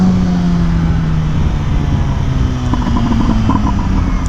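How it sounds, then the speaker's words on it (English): An MV Agusta Brutale motorcycle with a titanium full exhaust runs loud and steady, with a dense, continuous engine roar that stays close and unbroken throughout. "that crazy titanium full exhaust pops way louder"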